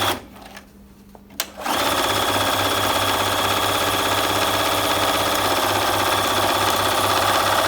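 A Bernina 1130 sewing machine runs a straight stitch at a short stitch length, starting after a brief quiet moment with a click and then humming and chattering steadily and loudly up close for several seconds.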